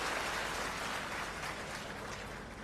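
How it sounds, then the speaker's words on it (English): Audience applauding sponsors stepping down from the stage at a county ceremony ahead of Mashujaa Day celebrations in Kericho, a steady, dense wash of clapping held at even loudness from start to finish, with no voices over it. "Let's give them a hearty clap as they step down once they see their ribbons."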